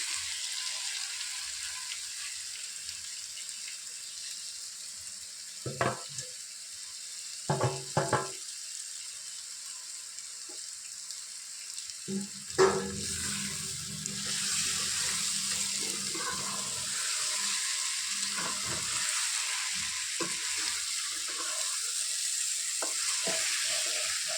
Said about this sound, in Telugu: ఇప్పుడు వేయించి ఉంచుకున్న పన్నీర్ వేసుకోవాలి